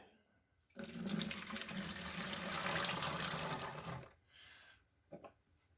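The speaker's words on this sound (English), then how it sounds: "There goes 1 cup. It goes into the first jug." Homemade pawpaw wine pours from a measuring cup into a jug, a continuous close splashing gush lasting about three seconds, then a few brief trickles and drips.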